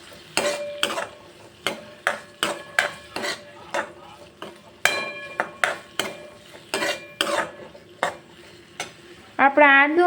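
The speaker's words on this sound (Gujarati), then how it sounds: "મેં એક ટીસ્પૂન જેટલી આદુ મરચાં અને લસણની પેસ્ટ લઈ લીધી છે એને પણ હું ગોલ્ડન બ્રાઉન સુધી કૂક કરી લઈશ" Ginger, chili and garlic paste cooking in a pan for dal khichdi, heard as a steady run of sharp, rhythmic spatula strokes scraping the pan over a low sizzle, close and fairly loud, with no talk.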